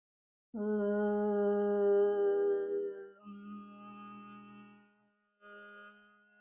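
A single sustained chanted syllable of the bija mantra Lam, steady and resonant, followed by a softer second held tone after a short break.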